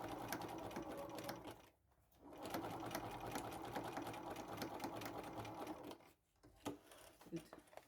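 A sewing machine stitches a seam on a bucket hat in steady, fast, close mechanical runs, stopping briefly twice before starting again, with no speech over it.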